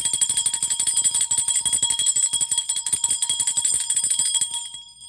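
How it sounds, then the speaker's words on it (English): Small handheld bells are shaken in a rapid, continuous jingling ring, bright and close, running steadily for several seconds before tapering off at the end. "Let me get my bells out."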